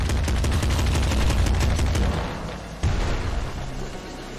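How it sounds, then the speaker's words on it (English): Dense, continuous machine-gun fire from the video game Nuclear Throne, a loud rattling barrage that drops slightly then surges again near the end, with no clear talk over it. "Is that a minigun? Machine gun."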